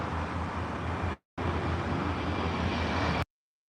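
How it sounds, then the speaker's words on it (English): An airplane taking off roars as a steady, loud, broadband rumble that briefly cuts out and then resumes until it stops abruptly. "I'm always amazed just watching the planes take off."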